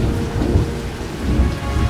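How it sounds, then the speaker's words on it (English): A loud, close thunderstorm: dense pouring rain hisses throughout while deep thunder rumbles swell and roll in the low end, with no voices. "Ooh, you hear that storm?"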